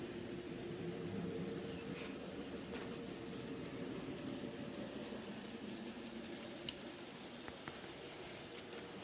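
A parcels train rumbles past at a distance, a low steady roar with faint rattling and a few clanks, fairly quiet throughout.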